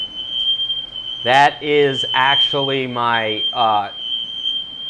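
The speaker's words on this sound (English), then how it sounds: "that's the alarm I wake up to. We know it works." A smoke alarm shrills in a kitchen with a steady, piercing high tone that runs unbroken through the whole stretch, while a person talks over it.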